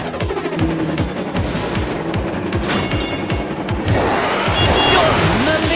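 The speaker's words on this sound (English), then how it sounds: "Tap, tap, tap on the green button to start up your engine." Engine-style revving and rushing motor noise from the Go Go Thomas racing video game, continuous and fairly loud with rhythmic chugging pulses, under game music and a narrating voice.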